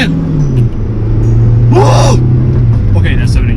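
Engine drone inside a late-1990s Toyota Corolla AE110 pulling under acceleration, a steady low rumble with a brief gasp-like vocal burst in the middle, loud and close.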